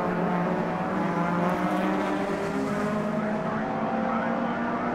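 Honda Civic race cars at Brands Hatch circuit roar past in a dense, continuous engine wail with shifting tones and rising whines, loud and sustained, with commentary over it.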